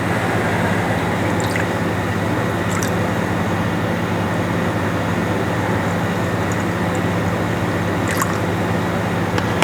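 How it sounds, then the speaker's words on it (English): Water poured onto 3 grams of shencha green tea leaves, a steady, continuous close-up rush of liquid running for several seconds with a few faint drips. "I'm going to put in the same amount of water for each one of them"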